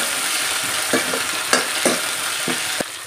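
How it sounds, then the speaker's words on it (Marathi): Potato pieces sauté in a hot pan for a fasting-day peanut curry, giving a steady sizzle with several soft stirring scrapes spaced through a few seconds, close and moderately loud with no talking. "तर आता आपण ह्या बटाट्याच्या फोडी यामध्ये घालूया. आपण हे छान असं परतून घेऊया."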